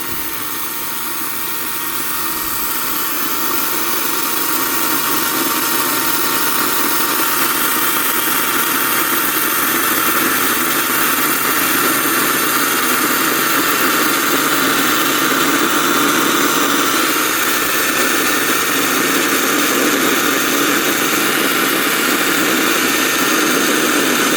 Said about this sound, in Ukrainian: Продовжуємо різати горіх акумуляторною пилкою.